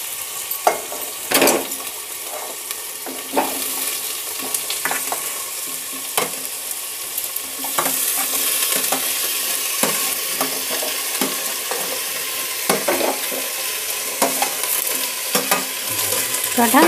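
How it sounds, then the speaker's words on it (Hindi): Jackfruit and onions fry together in a pan with a continuous bright sizzle, punctuated by repeated sharp scrapes and clacks of a spoon stirring, close and loud throughout, no speech. "कटहल डालने के बाद मैं इसे अच्छी तरह से चलाऊंगी और कटहल और प्याज को एक साथ फ्राई होने दूंगी"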